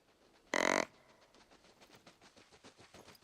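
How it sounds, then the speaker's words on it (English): Wild pigs in the hunting game theHunter: Call of the Wild: one sudden loud burst, then a run of soft, rhythmic grunting pulses continuing nearby without talk. "Oh, it's pigs!"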